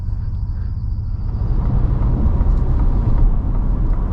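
A 2024 Ford Ranger Raptor's V6 drones steadily from inside the cabin, a loud low rumble that swells a little partway through and then stays constant, with no voices.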